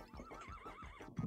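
A horse neighs in the video game Miitopia, a clear, wavering whinny repeated in several rising and falling pulses over about a second, ending in a short louder snort.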